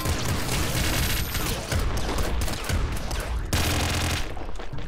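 Rapid laser pistol fire in the PC game Nuclear Throne (Ultra Mod), a dense, loud, continuous barrage of zapping shots with chaotic game effects layered underneath, briefly easing around the four-second mark before resuming.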